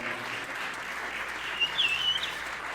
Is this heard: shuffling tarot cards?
no